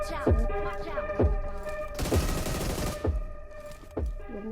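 Gunfire in PUBG Mobile cracks out in five sharp, evenly spaced shots about a second apart, with a denser burst of fire in the middle, loud and close over a steady game background.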